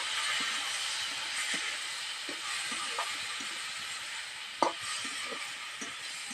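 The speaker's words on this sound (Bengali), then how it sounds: "সামান্য পরিমাণে একটু জল দিয়ে দেবো দিয়ে হালকা কষিয়ে নেব" Chicken masala being stir-fried in a pan with a little water added, giving a steady hiss with soft, scattered scraping taps of a spoon; no voices.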